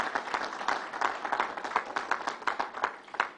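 Audience applause at a government announcement of a new arena for the Islanders, with steady, dense clapping from a fairly sizable crowd and sharper individual claps popping out of the wash.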